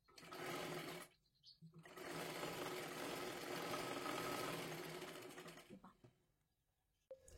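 A sewing machine stitches a princess blouse in two runs, a brief first burst and then a long steady stretch, with a short clack at the end.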